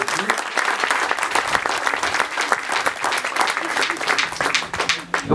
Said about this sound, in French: On peut les applaudir pour les remercier de venir ici